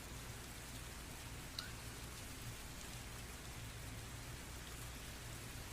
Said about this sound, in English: I couldn't hear you over the rain.